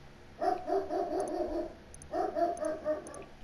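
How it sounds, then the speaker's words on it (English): A dog in the video game GTA 5 barks in two quick bursts of several sharp, fairly loud barks, separated by a short pause, over a low game background. "Making the dog bark."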